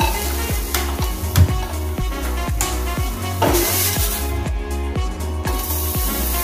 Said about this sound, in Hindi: अभी मैंने वही कढ़ाई ली है, अभी इसमें आलू डालेंगे हम।